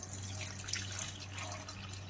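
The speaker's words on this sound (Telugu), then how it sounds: "ఇప్పుడు మనం హాట్ వాటర్ యాడ్ చేసుకోవాలి" Hot water pours steadily into dal khichdi in a kadai, making a continuous hissing splash that lasts the whole moment, close by and without any talking.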